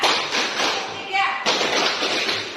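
Schoolchildren clap in unison on a teacher's count during a classroom clapping game, a dense burst of hand claps repeating in two close waves with a voice briefly over it.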